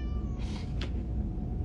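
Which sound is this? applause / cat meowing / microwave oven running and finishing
cat meowing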